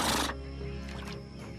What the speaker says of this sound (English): Horses! Where there are horses, there are men.